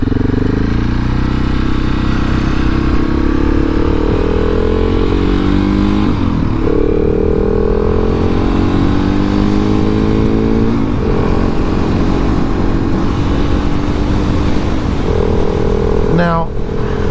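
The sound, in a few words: 2019 KTM 690 SMCR motorcycle riding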